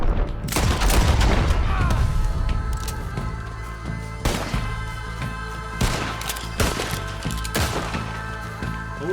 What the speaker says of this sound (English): Who is he shooting at over there?